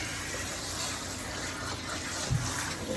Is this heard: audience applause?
no